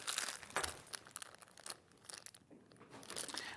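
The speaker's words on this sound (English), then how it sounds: "Now, double-sided basting tape from Clover." A roll of Clover double-sided basting tape is handled at close range, with crinkly crunching and tearing sounds coming in irregular bursts, fairly faint and with no voices.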